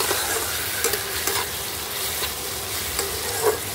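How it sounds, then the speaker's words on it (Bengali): A spoon stirs chili powder and turmeric through spices frying in a pan, a continuous close sizzle with scraping strokes and a sharper scrape near the end, no voices. "আবার একটু নাড়াচাড়া করে দেবো।"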